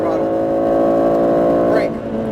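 An Aston Martin Vantage engine pulling hard at full throttle on a track, a loud steady harmonic drone climbing slightly before easing off, heard close with a voice talking over it.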